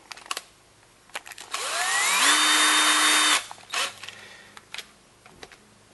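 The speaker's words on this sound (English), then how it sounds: "So let me get the drill. Use just a cheap Ryobi drill." A cheap Ryobi drill spins up with a rising whine and runs steadily for about a second while drilling out screws, with clicks and handling knocks before and after, no talk.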